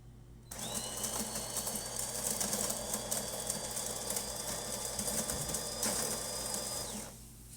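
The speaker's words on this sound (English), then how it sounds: "let's go ahead and test it and make espresso shot on it" A DeLonghi Magnifica Evo espresso machine pulling an espresso shot, a steady mechanical pump hum and rattle that starts abruptly, runs evenly for several seconds at close range, then winds down.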